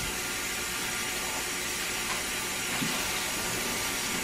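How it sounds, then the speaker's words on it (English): Tap water runs steadily into a kitchen sink while hands are washed, a constant broad hiss at close range with no voices. "Let me wash my hands real quick."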